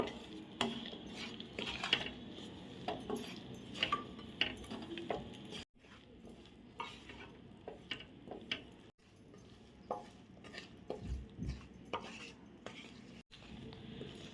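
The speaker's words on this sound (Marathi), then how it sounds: "ही दोन्ही पिठं आपल्याला मंद आचेवर छान खमंग भाजून घ्यायचे" Wheat flour and urad flour dry-roasting together in a pan on low heat, stirred with a spoon that scrapes and clinks against the metal in irregular strokes, close and fairly quiet, no voices.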